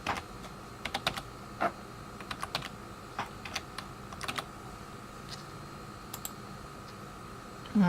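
A phone model is typed on a computer keyboard in a series of crisp, close key clicks, some quick runs and some single presses spaced across several seconds, with no talking.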